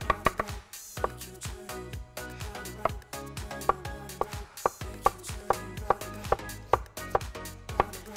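A knife chops an onion into half-moon slices on a board, giving a steady run of crisp, close, fairly loud cuts at an even pace, with no talking over them.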